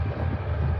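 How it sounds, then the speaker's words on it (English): A train rumbles past near a horse ranch beside a freeway in Blanding, Utah, a continuous low, heavy drone filling the short moment with no voices. "Do you see the train going out there?"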